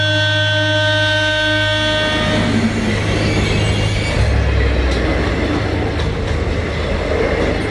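A passenger train running on rails, a loud continuous rumble with a sustained horn-like tone at the start that gives way to steady rolling wheel noise, close and alone without talk.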